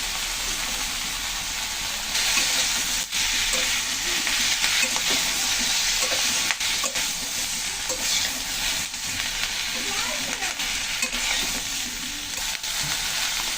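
Prawns and Malabar spinach curry with turmeric fry in a pan, giving a loud, continuous sizzle with stirring scrapes up close and no voices.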